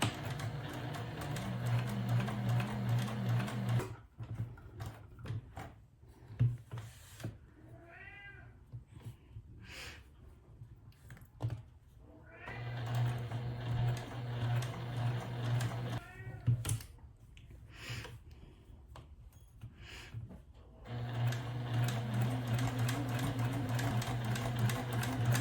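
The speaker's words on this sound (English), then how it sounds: "I'm going to start to sew." A sewing machine stitching fabric for a silverware display, running in steady whirring stretches at the start and end, with a cat meowing clearly during the quieter middle pauses.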